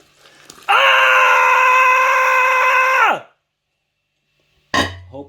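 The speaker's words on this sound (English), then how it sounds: "you have to scream to the yeast while it goes in" A person screams loudly at yeast while Norwegian Kveik is added during a home beer brew, one long sustained held yell of about two and a half seconds, then silence and a brief second vocal burst.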